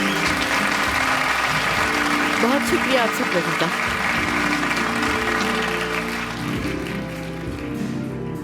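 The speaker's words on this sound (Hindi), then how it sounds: "इनके लिए बहुत सारी तालियां होनी चाहिए।" Guests at a party in a drama applaud Zainab with sustained, even clapping that gradually thins toward the end, while a voice speaks over it and soft music hums in the background.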